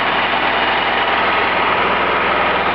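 Small generator engine held at around 2200 RPM, below its usual 3,000, idling steadily with an even low-pitched pulsing rumble and a broad mechanical hiss, close and loud throughout with no talk.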